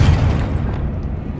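A Confringo fire-blast spell bursting in Hogwarts Legacy, a single loud booming explosion with a heavy low rumble that fades away over about a second.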